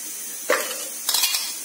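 A brief burst of ghee sizzling in a kadai, two short crackling bursts with a faint metallic clink, no talking.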